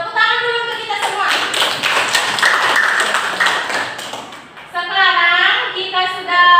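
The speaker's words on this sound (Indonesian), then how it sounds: "Tepuk tangan dulu untuk kita semua." Students in a classroom clap for everyone after the group presentations. Several seconds of brisk, close applause sit between stretches of talking, and speech resumes once the clapping dies away.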